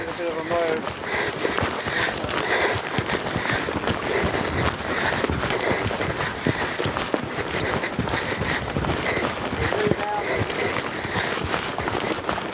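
A ridden horse moving along with a steady run of hoof clip-clops under constant nearby talking from the rider.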